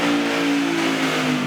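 A supercharged 5.2-litre V8 in a 2023 Ford Raptor R roars steadily on a dyno, a loud, sustained high-rpm drone with a strong low rumble and no talk over it.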